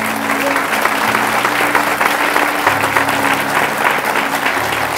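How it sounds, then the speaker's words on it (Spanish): A church audience applauds during a Spanish-language sermon, producing dense, sustained clapping at close range with a steady tone humming underneath. "Dele un aplauso a Jesús por eso."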